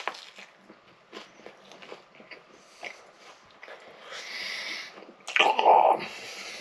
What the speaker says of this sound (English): So, I'll try the American version of Vegemite on toast.